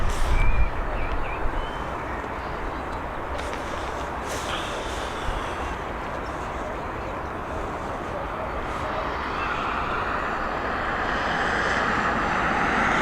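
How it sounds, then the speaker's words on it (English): Ryanair Boeing 737 arriving from Brussels on approach to Dublin Airport, a broad, steady jet engine roar that swells slightly toward the end, with some faint voices underneath. "we've got a 737 now coming in from Brussels, operated by Ryanair"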